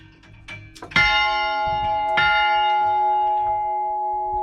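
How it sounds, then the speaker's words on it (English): Church bells struck twice, each a loud clanging peal with long ringing overtones that hang and decay, the second strike about a second after the first. "I rang the church bells."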